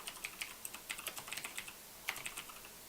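Rapid, uneven keystrokes on a computer keyboard while coding in Python, crisp clicks arriving in short bursts with brief pauses, close and fairly quiet with no talking.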